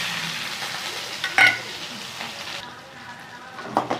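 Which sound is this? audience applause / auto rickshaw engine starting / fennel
fennel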